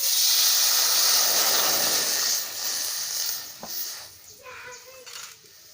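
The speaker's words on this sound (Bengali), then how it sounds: "এবার কড়াই দিয়ে দেবো জল।" Water is poured into a hot kadai and hisses loudly in a sharp burst of steam that gradually fades to a softer sputter, with a clink near the end.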